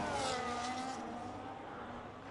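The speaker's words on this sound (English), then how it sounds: "Lost of traction on the curve from Not So Elite Dave, and Terry Revs retakes the position." Race car engines in an online racing video game at Melbourne, Australia: a loud, high, droning engine note that slowly fades, like cars sweeping past on the track.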